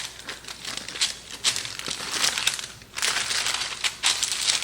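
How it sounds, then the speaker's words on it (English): Parchment paper being crinkled and pressed down into a baking dish in a home kitchen, a steady run of close crackling and rustling bursts with no talking. "What we're going to do next is we're going to put a piece of parchment paper down on a baking"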